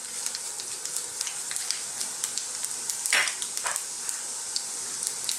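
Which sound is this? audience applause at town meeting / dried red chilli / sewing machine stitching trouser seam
dried red chilli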